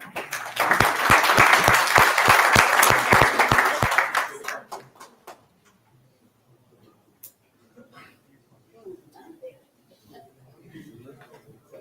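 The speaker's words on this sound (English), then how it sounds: "A round of applause for everyone." At a summit panel session, an audience applauds in a short burst of crisp, distinct claps lasting about four seconds. It then drops to a quiet room with scattered murmurs and soft chuckles.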